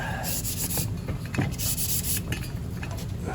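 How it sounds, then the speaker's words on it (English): Close-up rubbing and scraping of sandpaper against a brass candlestick in uneven back-and-forth strokes, fairly soft, with no voices. "you can see that I'm still sanding some of that off"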